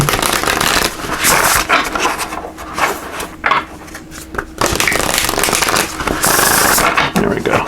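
Papery riffling and rubbing of oracle cards being shuffled in several bursts, close and fairly loud, with brief pauses between rounds.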